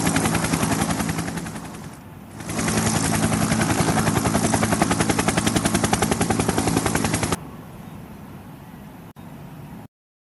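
Loud, steady thudding of helicopter rotor blades, close and continuous, dipping briefly near the start before resuming full force, then cutting to a quieter engine hum toward the end.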